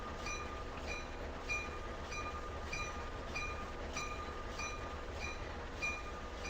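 Train carriages rolling in a train simulator game on a Boston to Albany New York Central route, a quiet continuous rumble with evenly spaced rhythmic clicks from the wheels over rail joints.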